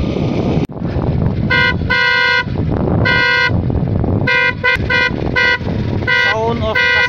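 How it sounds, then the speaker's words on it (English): Custom dual horns on a Suzuki Gixxer motorbike honk in a series of short and longer loud blasts over steady noise, with a few quick wavering toots near the end. "Let us listen to the sound from these two horns."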